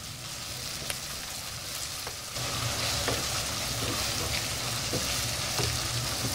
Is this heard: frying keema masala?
yes